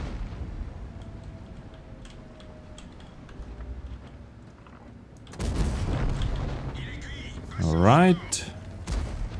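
A tank cannon fires in World of Tanks, one booming shot followed by echoing rumble, with someone talking quietly over the battle.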